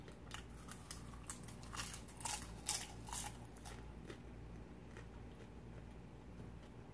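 Someone chews crunchy popcorn close up, producing a string of irregular crisp crunches that cluster early and thin out toward the end, quiet and with no talking.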